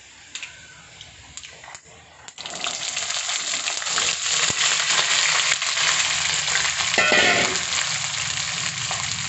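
Mustard seeds pop and splutter in hot oil in a home kitchen pan before beans go in, starting quiet and swelling into a dense, steady crackling sizzle with a few sharp pops near the front.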